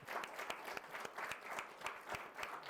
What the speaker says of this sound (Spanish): aplausos para el panel